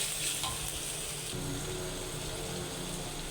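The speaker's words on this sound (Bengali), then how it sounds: "দিয়ে দিলাম পেঁয়াজটা একটু নরম করে ভাজা ভাজা করে তারপরে অন্যান্য মশলা দেব।" Onion frying in oil in a pan for a home-style Bengali curry, a steady close sizzle and crackle running evenly throughout, with no voices.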